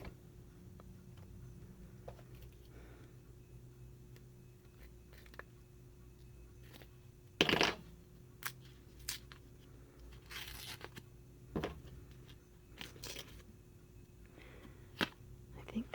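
Scissors cut open a sealed plastic package, giving one sharp, loud snip-and-tear burst midway, then a few scattered crinkles and clicks against a quiet room background.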